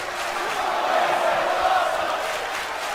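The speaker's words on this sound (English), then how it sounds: "You hear the crowd, they're in appreciation." Wrestling crowd in the WWE 2K video game cheering in appreciation after a suicide dive, a steady, dense roar of many voices sustained for the whole stretch and swelling slightly in the middle.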